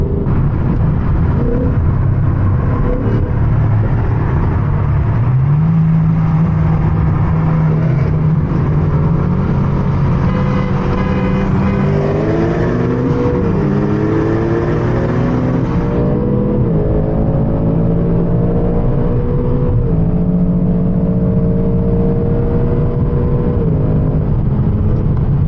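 A V8 Corvette pulls hard in a street race, its loud engine note climbing through repeated rising sweeps with brief shift breaks, heard from inside the car and dominating the whole stretch.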